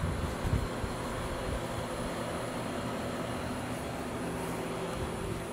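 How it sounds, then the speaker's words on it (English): A new Bosch air conditioner runs steadily, a continuous broadband whir and low mechanical hum with a faint high whine, holding at an even level throughout with no talking. "And then that's the sound of my Bosch running right now."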